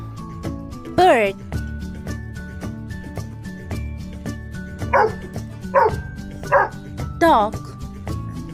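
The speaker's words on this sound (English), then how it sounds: "dog," A dog yips and barks in several short, sharp bursts, one early and a quick run of four later, over a light rhythmic music bed.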